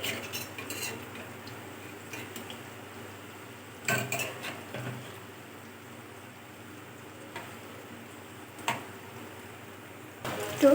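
Potato fritters frying in hot oil over a low gas flame in a home kitchen are turned in the pan, giving a few light metallic clinks and scrapes over a soft, steady background.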